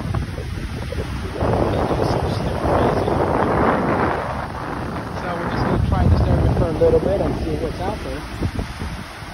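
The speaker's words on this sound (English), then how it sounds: "It's a little windy." Gusty wind buffets the microphone on a beach on Padre Island, rising and falling in strength, with surf faintly beneath and a voice speaking intermittently over it.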